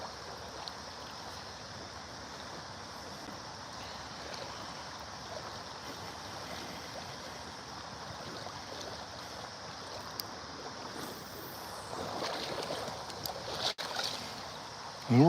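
Water from the Great Miami River in Ohio flows and swirls around a person wading for smallmouth bass, a steady close rush with a slight rise in agitation toward the end.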